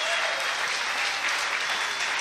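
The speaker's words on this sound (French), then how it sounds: "Le public du stade de Numadélé qui applaudit" Steady applause from a stadium crowd at a rugby cup match between Australia and Fiji, a dense, continuous clapping wash that fills the whole stretch without pause.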